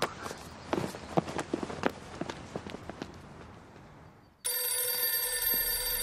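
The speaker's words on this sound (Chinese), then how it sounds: "你有听见电话声吗？" Footsteps crunch along outside a gloomy villa, then a loud, steady electronic telephone ring cuts in abruptly and carries on to the end, with no talking.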